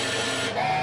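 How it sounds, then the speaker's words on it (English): A disc printer lays magenta ink onto a DVD, a steady close mechanical whir with a brief dip midway, no voices. "Now it's printing magenta."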